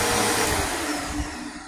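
A Bissell vacuum cleaner runs in a living room, a loud steady broadband roar close by, with no talking.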